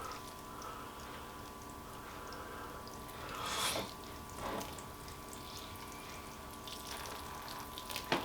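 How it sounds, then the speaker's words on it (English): Liquid poured slowly into a tub, a soft, steady trickle of water with a couple of brief louder splashes partway through and a small spill near the end, fairly quiet and close. "Slowly pour this in, so where it's not leaking out inside the tub too much"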